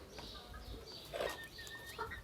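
Chickens and roosters clucking and calling in a coop, mostly four-month-old roosters, several birds making short, overlapping sounds at moderate distance.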